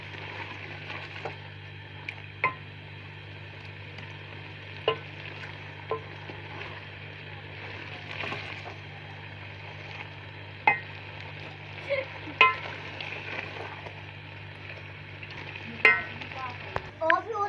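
Chicken palak curry roasts in a pan with a soft, continuous sizzle under a low hum, broken by sparse clicks and scrapes of stirring across the stretch.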